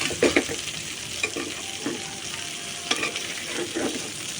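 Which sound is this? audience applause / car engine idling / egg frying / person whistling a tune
egg frying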